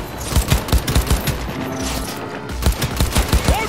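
Rapid bursts of automatic gunfire in the video game Cyberpunk 2077, loud and close, with a short lull in the middle before another volley resumes; no speech.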